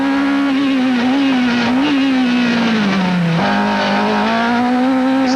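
Toyota Atlantic open-wheel race cars at the 1991 Long Beach street race sweep through a corner, a loud, close, continuous high-revving engine drone that dips in pitch as the driver lifts, then climbs again on the exit.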